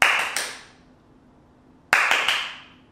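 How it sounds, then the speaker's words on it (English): Two bursts of sharp hand claps aimed at The Clapper, a 1980s sound-activated outlet switch: a quick cluster of three claps, then silence of over a second, then another cluster of about three claps, loud and close with decaying room echo. "And you can't clap too quickly,"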